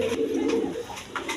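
Lakkha pigeons, a big-sized male and female pair, coo close by in a few soft, rolling bursts with no talk over them.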